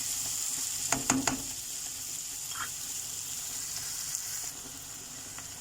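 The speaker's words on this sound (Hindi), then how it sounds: "अब ओनियन को फ्राई करना है, इसे लाइट ब्राउन करेंगे।" Onions frying to light brown in a pan for keema lobia, a steady close sizzle with a few stirring clatters near the start, no talk.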